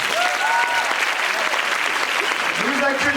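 A theatre audience at an improv show's Christmas performance applauds in a dense, sustained burst of clapping, with voices and cheers mixed into the crowd noise.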